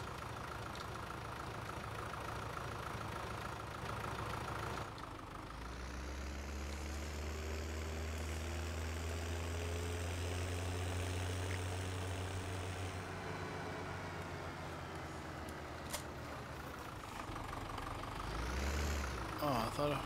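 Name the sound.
tractor engine idling in a farming video game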